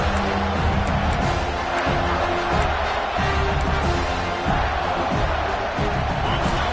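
A stadium crowd at an American football game roars continuously and loudly, a dense, unbroken wall of cheering noise with no talk over it.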